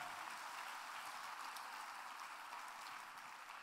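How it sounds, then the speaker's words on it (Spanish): A church congregation applauds during a sermon, a faint, even hiss of many distant hands clapping with no voices over it. "Dale un fuerte aplauso al Señor."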